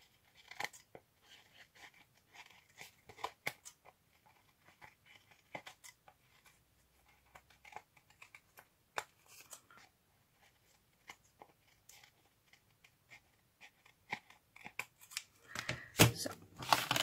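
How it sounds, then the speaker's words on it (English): Scissors snip through material in a quiet indoor craft setting, a string of short, soft crisp cuts with brief pauses, growing busier and louder near the end. "And I'm just cutting."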